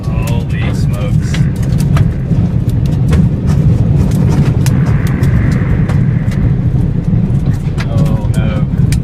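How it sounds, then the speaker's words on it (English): A tornado roars close to a shaking truck, a loud continuous low rumble with rattling and buffeting that persists throughout. "the roar accompanied by the shaking of the truck makes for a nightmare scenario"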